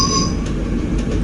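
Dutch train running on the Nijmegen–Arnhem line, with a steady low rumble of wheels on track and a brief high squeal at the start, heard continuously from close by.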